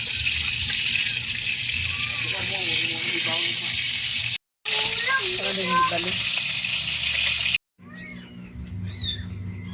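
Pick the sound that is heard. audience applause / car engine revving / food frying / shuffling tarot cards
food frying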